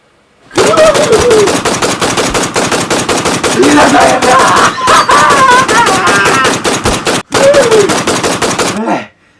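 Sustained bursts of rapid automatic gunfire, loud and close, rattling almost continuously for several seconds with two brief pauses.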